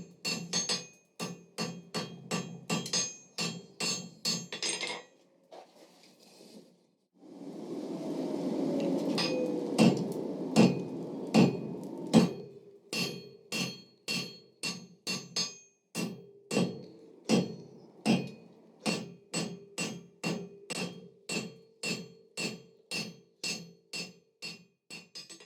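A hand hammer strikes a steel bar on an anvil while forging a taper from coal-forge heat, a long run of sharp, evenly spaced ringing blows with a brief pause and a stretch of roaring fire noise midway.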